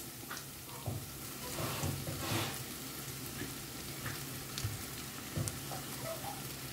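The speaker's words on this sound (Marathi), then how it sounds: "सो आतां हांव घालता बासमती रायस" Basmati rice hits a sauce in a hot pan, giving a soft, steady sizzle broken by scraping stirs and small clattering bursts. The sound is close and fairly quiet, with no talking.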